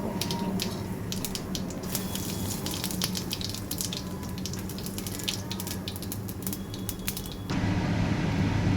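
Cumin seeds sizzling in hot, smoking oil as they are tempered in a pan, a steady hissing crackle with fine popping, growing fuller and louder toward the end.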